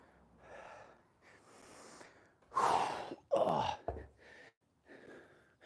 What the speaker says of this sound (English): Sorry if I'm breathing in your ear.